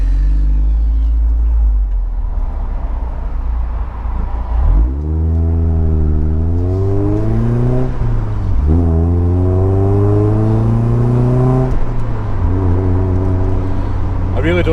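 A car is driven to an MOT test centre, its engine droning low then rising and falling through several gear changes in a smooth whining pull, heard from inside the cabin.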